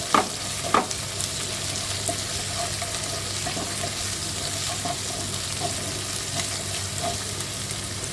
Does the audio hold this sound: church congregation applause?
no